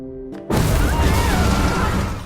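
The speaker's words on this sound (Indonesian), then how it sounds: "Mobil itu meledak." After a short tonal hum, a car explodes from a grenade blast, a sudden loud boom followed by a rumbling roar and crackling debris that slowly trails off.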